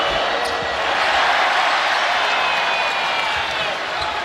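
Basketball arena crowd at an NBA preseason game between the Charlotte Hornets and New York Knicks, reacting during a free throw with a loud, sustained roar of voices and jeering filling the space.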